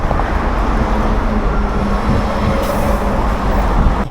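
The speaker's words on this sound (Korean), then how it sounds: "제가 이따가 돌아올 때 타고 올 버스입니다." A city bus on a route to Seobu Terminal in Daejeon rumbles past on a street, a loud, continuous low traffic roar that swells slightly near the end, with no talking.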